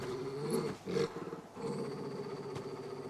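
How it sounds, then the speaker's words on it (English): Dog barking in Final Fantasy 16, with a couple of rough, growly bursts over a steady game soundtrack and ambience. "Dog."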